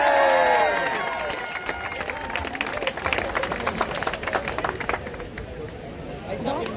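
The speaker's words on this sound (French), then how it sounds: "On l'applaudit très fort, mesdames et messieurs!" Crowd at an outdoor citizens' protest rally applauding and cheering, a dense patter of many hands clapping steadily throughout, with a voice briefly over the start.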